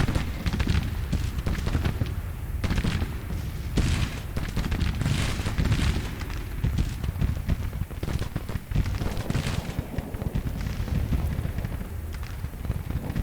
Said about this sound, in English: Now they're firing.